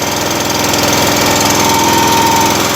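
Small gas engine on a Wolfe Ridge 17RS log splitter idling while it warms up on half choke, a loud, close, steady chugging putter with even rapid firing pulses and no talking.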